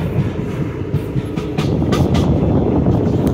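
Inside a moving train nearing Almatti, a steady low rumble with rhythmic wheel clatter grows louder partway through, close and continuous with no voices.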